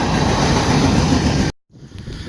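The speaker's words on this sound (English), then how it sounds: "Now we got some sort of train." A CSX freight train passes with a loud, close, steady rumble and rolling wheel clatter that cuts off abruptly partway through, then continues much fainter.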